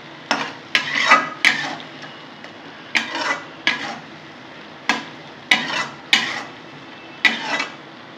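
A spoon stirring mustard curry in a pan, with about a dozen separate scraping strokes in an irregular rhythm, each a sharp metallic scrape over a faint background sizzle, close and fairly loud.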